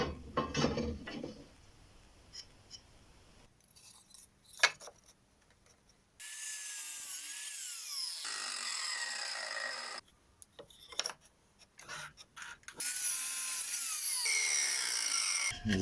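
Hand saw cutting wooden stock for a picture frame, heard as several sustained rasping bursts of a few seconds each, separated by pauses with quieter handling and knocking of the wood.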